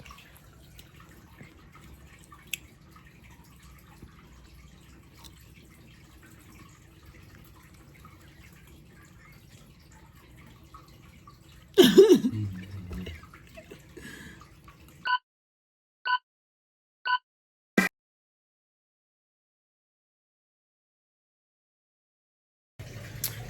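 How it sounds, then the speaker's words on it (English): Water running softly in the background at home, a faint steady wash, then a loud splashing rush, a few sharp drips and clicks, and a stretch of near silence. "I think this water in the background is too loud"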